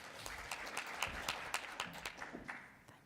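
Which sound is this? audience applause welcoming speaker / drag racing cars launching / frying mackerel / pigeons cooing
audience applause welcoming speaker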